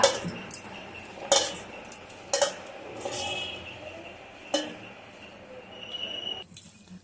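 Chopped ivy gourd pieces go into a bowl, with metal utensils clinking against it in a handful of sharp, scattered knocks and clatters over a quiet kitchen background.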